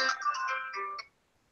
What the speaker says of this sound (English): it's a nice ringtone now.